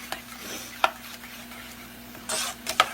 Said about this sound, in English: scrape the bottom of your pan because grits really want to stick